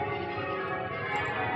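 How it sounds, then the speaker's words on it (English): Church bells of Derby Cathedral ring on a Sunday morning in a city centre, a steady sustained wash of overlapping tones heard from a distance without a break. "Oh, the bells are ringing."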